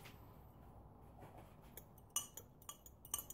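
A spoon stirring melted candle wax in a clear glass jug gives a few light, scattered clinks over a quiet room, spaced irregularly and growing slightly more frequent toward the end.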